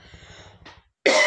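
One person gives a low, rough throat-clearing rumble, a short pause, then a sudden loud, harsh cough that bursts in close and sharp at the end.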